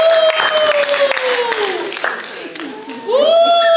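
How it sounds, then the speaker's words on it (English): Audience applause at a community prison awareness gathering, clapping and cheering mixed with a voice speaking and whooping over the crowd, loud and close, swelling again near the end. "So give yourselves another round of applause."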